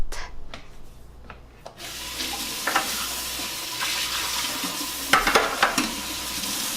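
A pot is scrubbed and rinsed at a kitchen sink, with steady running water and the rubbing of a sponge or brush against metal, plus occasional clinks and louder splashes partway through.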